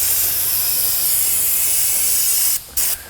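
A steady, loud spray hisses close by as dust is blown out of the inside of a car brake drum, cutting off briefly near the end before one short final burst.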